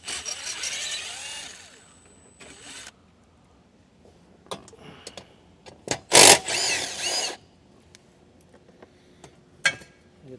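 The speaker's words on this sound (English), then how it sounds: "We're going to use an 8mm socket in order to get these out." An 8mm socket ratcheting bolts out of a plate during a brake controller install on a 2015 vehicle, intermittent close clicks and rattles with a loud brief burst partway through and a few scattered knocks.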